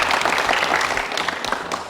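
A crowd of audience members bursts into applause, brisk dense clapping that is loud at first and then tapers slightly over a short span.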